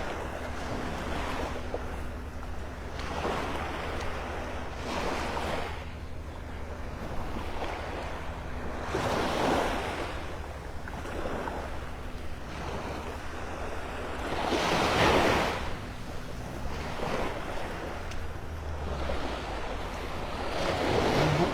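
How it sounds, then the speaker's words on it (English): Ocean waves wash onto a beach in North Naples, Florida in the morning, a continuous close surf roar that swells and recedes, with gusts of wind buffeting the microphone and no talking. "Gotta love a little beach time in the morning."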